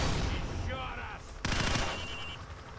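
Gunfire at targets in the 2007 game Call of Duty 4: Modern Warfare, a dense burst of shots with a sharp loud crack midway, over a steady game background with faint voice-like sounds.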